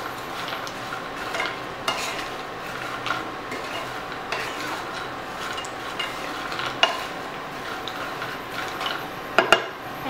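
Masala nuts tossed with table salt in a pan: steady dry rattling and scraping from continuous stirring, a faint sizzle beneath, and a few sharper metal knocks near the end.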